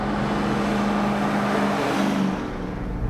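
A RAM TRX pickup truck's engine drones and revs steadily while driving, a loud, continuous engine tone that eases slightly near the end, with no voices.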